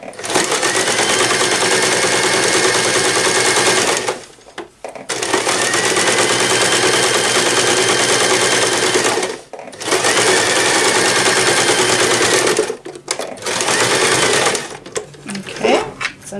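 A sewing machine stitches a drawstring bag in loud, continuous rapid runs, pausing briefly twice, then ending with short stop-start bursts.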